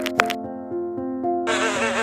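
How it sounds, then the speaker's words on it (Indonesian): Flies buzz close by in short, wavering whines, with a thicker swarm-like buzz coming in toward the end. "Kok jadi banyak lalat sih?"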